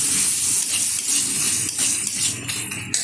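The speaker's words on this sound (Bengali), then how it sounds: "এবার ভালোভাবে আবারও কষিয়ে নেব।" Ginger juice and garlic paste sautéed in a pan for a spiced mutton trotter dish give off a close, loud, continuous sizzling hiss with small crackles and stirring bursts throughout.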